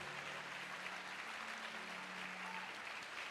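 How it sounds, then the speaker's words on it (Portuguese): A church congregation applauds in a steady, soft wash of many hands clapping, distant and even; a low sustained musical tone hums faintly beneath it. "Pode aplaudir, Jesus, pode aplaudir"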